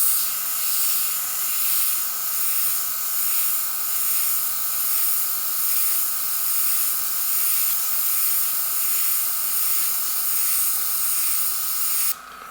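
An airbrush sprays paint in a steady, continuous near hiss while a tutorial painter works with a mask or freehand shield. The hiss holds without a break for about twelve seconds and cuts off abruptly at the end.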